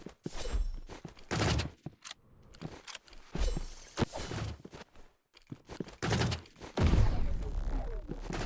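Burst gunfire from the Roblox Rivals video game: several sharp volleys of shots break out in uneven clusters across the clip, loud and close, with clicks and shuffling in between.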